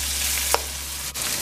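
Seafood seasoning and black pepper hitting a hot frying pan, giving a steady close sizzle with one brief clink partway through and no talking.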